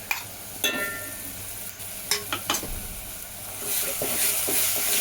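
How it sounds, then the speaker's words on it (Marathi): Chopped onion, already browned to golden, sizzles in a pan with ground green chili and garlic paste, stirred with a few sharp scraping clicks over a steady soft frying hiss that swells toward the end. "असा कच्चेपणा व्यवस्थित जाऊस्तर जरा परतायचा आहे."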